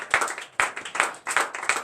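A church congregation at a Sunday service in Benin claps in a steady rhythm, sharp close hand claps landing about every quarter second, loud and without voices.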